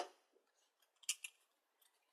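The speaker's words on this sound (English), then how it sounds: "grab a pair of scissors, and just cut to about the middle" A pair of scissors snips through scalloped punched paper for a craft corner, a few quick, crisp cuts heard close up in a quiet room.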